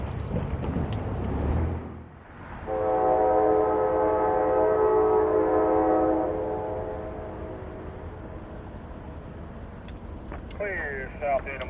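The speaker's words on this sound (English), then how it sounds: "the sound of a distant K5LA would make me turn my camera around and get ready for" A distant K5LA five-chime horn on a northbound CSX freight train sounds one long sustained chord, fairly strong, over low rumble and background noise, then fades to quieter ambience.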